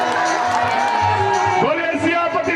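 An audience at a Ramlila performance in Soniya Vihar, Delhi, cheers and applauds in a loud, continuous wash of clapping and whoops, with a voice rising over the crowd near the end.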